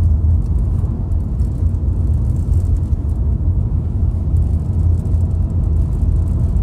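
Renault Laguna 2008 dCi diesel with an automated smart clutch system, engine droning steadily and close from inside the car as it shifts up through fifth and sixth gear, a continuous low rumble with no talk.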